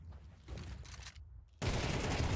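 Gunfire rattles in a Counter-Strike match as rapid bursts of shots and flying bullets, dipping briefly before a louder, dense volley at the end.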